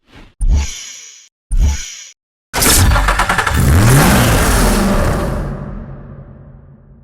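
A car engine in Need for Speed Hot Pursuit gives two short blips, then a loud rev that climbs and slowly fades as the car pulls away, with exhaust roar.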